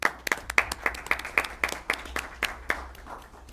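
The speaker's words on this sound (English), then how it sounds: "Let's give them applause." An audience applauds at a school board of education meeting, a room of scattered hands clapping in a brisk, uneven patter that trails off toward the end, no voices over it.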